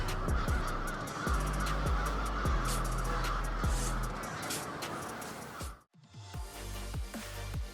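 A dense flock of honking, cawing birds calls continuously outdoors, with low rumbling traffic underneath, the noise dropping briefly before resuming.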